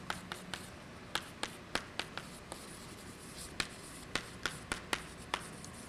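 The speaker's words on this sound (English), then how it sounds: "I'll write here." Chalk or marker writing on a board during a mathematics lecture, a steady run of crisp taps and short strokes at an irregular rhythm, moderately close against a quiet room hum, with no talking.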